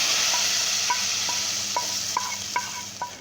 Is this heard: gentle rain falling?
no